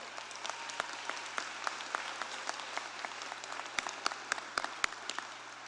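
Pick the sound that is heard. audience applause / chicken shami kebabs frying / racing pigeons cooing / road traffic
audience applause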